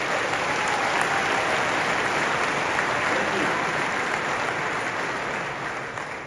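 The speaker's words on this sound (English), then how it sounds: "one more round of applause for all of our safety awards" A large crowd at a product keynote applauds safety award winners with a dense, sustained roar of clapping that stays loud and close, then begins to fade near the end.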